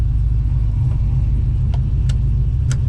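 A 1971 Ford F-100 restomod with an LS3 V8 rumbles steadily at close range, its deep low-pitched drone holding even throughout with a few faint clicks on top.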